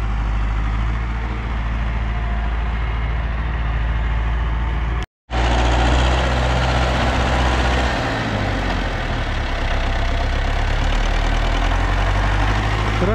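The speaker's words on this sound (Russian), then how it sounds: "Трактор «Беларус» работает плугом, обводит периметр, чтобы хотя бы дальше вот этого периметра огонь не пошел" A Belarus tractor engine chugs steadily while plowing a firebreak around a smouldering peat bog during wildfire fighting, a loud, close diesel rumble with a brief dropout partway through before the running resumes.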